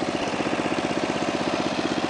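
A petrol lawn mower engine running steadily, with a rapid low pulsing throb, loud and close with no voices.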